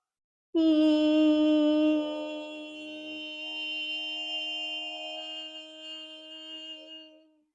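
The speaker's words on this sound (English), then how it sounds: "We'll also be chanting the vowel sound of E" A single voice sings a long, steady "ee" vowel tone, starting strong then settling softer and sustained for several seconds before fading out.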